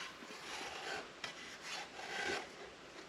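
A hand tool scrapes and rasps against a hard surface in repeated short strokes, close and fairly quiet, with no talk.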